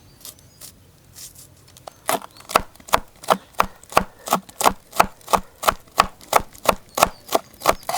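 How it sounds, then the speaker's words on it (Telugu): A knife chops green chillies finely on a board: after a soft start, a rapid, even run of sharp, close knocks keeps a steady rhythm, with no voices. "ఒక నాలుగు పచ్చిమిర్చి సన్నగా కోసుకుందాం"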